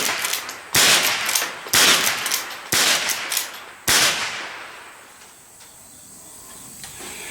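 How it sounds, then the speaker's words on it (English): Four sharp cracks from a Marlin 1897 lever-action rifle in .22 Long Rifle, fired outdoors about a second apart, each loud and close with a bright ringing tail, followed by fading quiet. "You can shoot it fairly fast. Let's run just a few more here."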